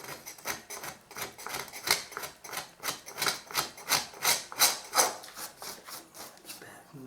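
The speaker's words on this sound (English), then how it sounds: "You can even give a little scrape of the wall as well at the bottom." A scraper works dry at woodchip wallpaper on a wall, making a fast run of close, rhythmic rasping strokes, roughly two or three per second, each a short bright scratch rising and falling in loudness.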